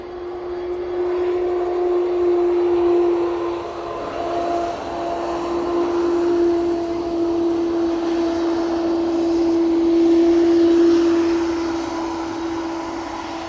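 A jet airliner on a long landing roll-out at East Midlands Airport, a sustained steady engine roar with a strong droning tone that swells and eases slightly, heard from a distance without talk.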